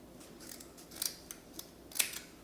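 Scissors cutting a strip of craft material for flip-flop decorations, a series of close, crisp snips and slicing strokes at an uneven pace, quiet against a soft room hiss.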